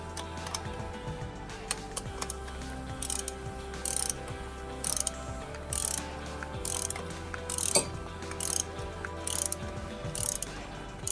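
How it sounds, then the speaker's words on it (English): A ratchet on a socket and extension snugs down a spark plug with short, regular bursts of close clicking, each pass followed by a brief pause. "hand tighten it with the socket and extension, and then use our ratchet"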